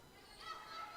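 A goose honking at a volleyball match against WVU Tech, a short faint call that rises and fades over a steady crowd murmur in the bleachers.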